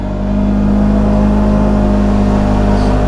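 A Polaris General XP side-by-side drives along a trail, its engine droning loud and steady with a constant mid-pitched hum and whirring drivetrain, no voices over it.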